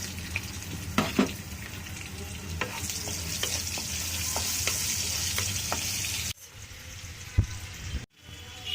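Sliced onions fry in hot oil in a pan, hissing and sizzling steadily while a spatula scrapes and stirs with occasional clicks, before the sizzle drops and a few sharp knocks follow.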